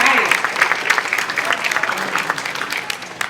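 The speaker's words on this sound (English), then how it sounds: "let's give them a round of applause" An audience claps at a Latin/Hispanic American Experience event, producing dense, loud applause throughout.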